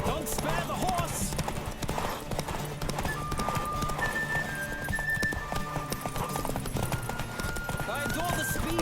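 Rhythmic hoofbeats of a galloping horse with occasional whinnies, layered over music and steady background effects, from the video game The Witcher 3: Wild Hunt.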